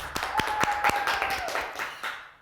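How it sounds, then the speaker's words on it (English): Short burst of applause from a small crowd at a school event, scattered claps over a sustained tone, fading out after about two seconds. "Let's give them a round of applause."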